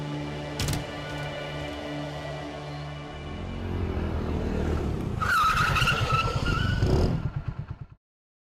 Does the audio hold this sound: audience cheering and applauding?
no